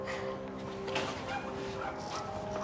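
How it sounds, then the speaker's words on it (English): A pit bull lets out short, high whimpers and yips, with a couple of quick bark-like bursts, close by over a low background hum. "It's a pit bull dog."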